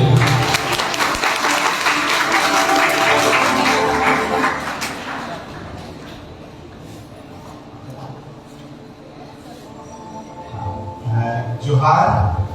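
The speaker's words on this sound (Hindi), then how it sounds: "ऐसे करके ना पुनः उनके लिए तालियां होना चाहिए।" Audience applause at an Adivasi Divas event at BSK College in Barharwa: a loud burst of clapping for the first few seconds that fades away, followed by quieter room sound and a voice speaking near the end.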